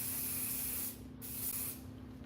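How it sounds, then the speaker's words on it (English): Hair holding spray sprayed onto a comb in two short hissing bursts, the first about a second long, then a brief pause before a second softer burst, close and alone. "and just spray it on the edge"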